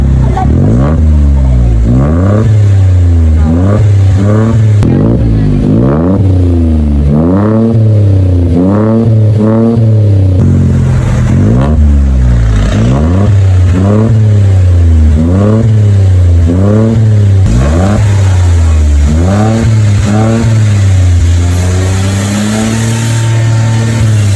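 A Toyota Wigo's 1.0 litre engine with an aftermarket muffler is revved repeatedly, loud rising and falling bursts over a steady idle, about a dozen blips in an even rhythm, close to the exhaust.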